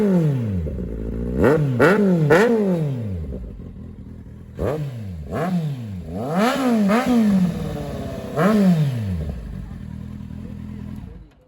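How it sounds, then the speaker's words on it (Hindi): A 2017 Kawasaki Z800 motorcycle's exhaust revs in a series of sharp blips, several quick rises and falls in two bursts, loud and close, with idle between. "एक्सिल की आवाज़ सुनना तो बनता है।"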